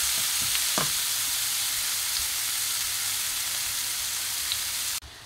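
Shrimp sticks fry in hot oil with a dense, even hiss of sizzling and a couple of faint clicks early on, running alone until it cuts off abruptly near the end.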